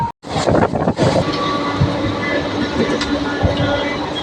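A passenger train runs at speed on the line toward Puri, heard from inside: a loud, continuous rumbling roar with rhythmic wheel clatter and occasional metallic squeals, and voices are faintly present underneath.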